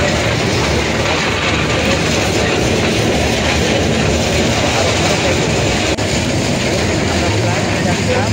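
A small amusement-park toy train at Green Aronno Park rumbles along with a constant rolling clatter, loud and close, with voices murmuring faintly beneath the noise.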